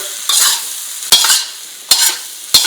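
Boiled potatoes with salt, roasted cumin and mango powder are mixed for a samosa filling. Four loud, close scraping strokes of a spoon through the mash are separated by short pauses, with no talking.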